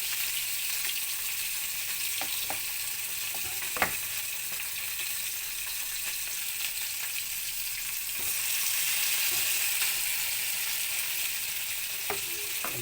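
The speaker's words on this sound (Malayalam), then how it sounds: "ഓയിൽ ചൂടായിട്ടുണ്ട്, നമുക്ക് പൊരിക്കട്ടെ." Fish fries in hot oil, making a continuous close hiss and crackle with a few sharp clicks and pops. The sizzle swells louder partway through, and no one speaks.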